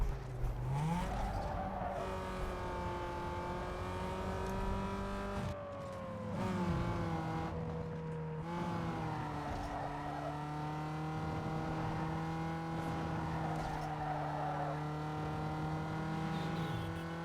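Race cars in Need for Speed: Underground 2 roar continuously at high revs, engine pitch climbing and dropping through gear shifts over a steady loud drone, with occasional tire squeal and no talk.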